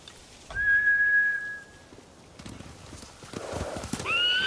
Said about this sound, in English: They're samurai mounts, trained to return to their masters.